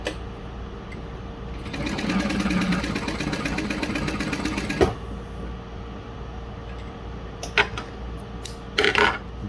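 A Juki DU-1181N industrial sewing machine stitches light to medium fabric with its top tension loosened slightly, a steady close mechanical whir for a few seconds, then stopping, followed by a few handling clicks and knocks.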